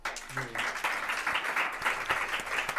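Audience applause at a Spanish political talk on centre-right economic proposals, a steady patter of clapping that fills the short clip, with a brief voice near the start.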